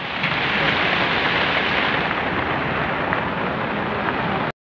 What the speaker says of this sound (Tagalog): What a rain in here in Baguio City.